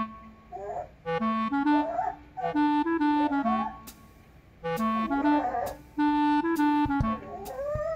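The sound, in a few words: dog whining for food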